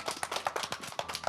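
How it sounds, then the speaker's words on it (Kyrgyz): A children's storytelling show audience claps in welcome as two storytellers come on. The clapping is brisk and rhythmic, from a small crowd, with sharp, evenly paced bursts running continuously at moderate loudness. "Анда кол чаап тосуп алабыз."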